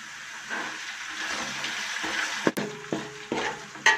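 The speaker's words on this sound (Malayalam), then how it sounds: "കാന്താരിമുളക് ഇട്ട് കൊടുത്തിട്ട് നല്ലതായിട്ട് ഇളക്കി കൊടുക്കുക" Kanthari chillies fry in oil with garlic and ginger for a carrot-mango pickle, a soft close sizzle broken by several sharp spoon scrapes and clanks against the pan as they are stirred.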